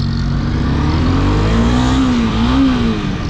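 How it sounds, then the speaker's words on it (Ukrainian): A 2011 Honda CBR 250R fuel-injected motorcycle rides along, its engine note holding steady and then climbing and wavering as the throttle opens, loud and close, with no talking. "звичайно ж, легенький такий мотоцикл. От, Для таких швидкостей е, ну, я не сильно себе впевнено почуваю, але їде дуже гарно."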